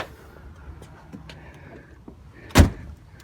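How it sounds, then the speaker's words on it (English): The door of a 1987 Mercedes-Benz 560SL roadster shuts with a single solid, heavy thud close by, after a quiet stretch of faint handling noise. "The way those doors close, like a bank vault."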